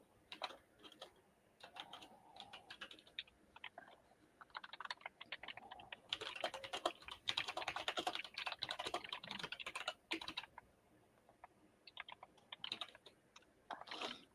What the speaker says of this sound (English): Oh, you're typing to Sammy in Discord